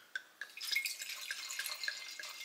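Wine poured into a glass at close range: a few separate drips, then a steady, bright, splashing trickle of liquid that runs to the end.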